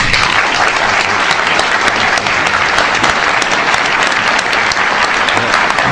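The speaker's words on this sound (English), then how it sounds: "please join me in a warm round of applause" A large audience bursts into sustained, dense applause welcoming a speaker at an evening talk, the clapping steady and loud from start to finish with faint crowd murmur beneath.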